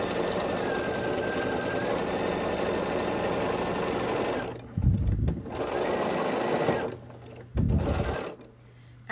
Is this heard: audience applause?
no